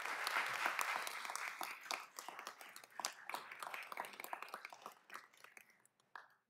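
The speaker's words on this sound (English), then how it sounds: "Let's give our graduating class another round of applause." A round of applause for a citizen police academy graduating class, with many hands clapping loudly at first, then thinning into scattered individual claps that fade away by the end.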